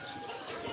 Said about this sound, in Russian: в выставке будут участвовать и живые голуби